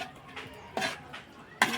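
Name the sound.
stirring bean curry in a pan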